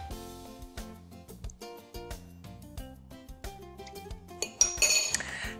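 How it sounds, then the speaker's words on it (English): Metal spoon clinking against a glass bowl while soy sauce is measured and stirred, rapid bright ringing taps in a steady run, growing busier and louder at the end. "we're going to mix together our liquid ingredients"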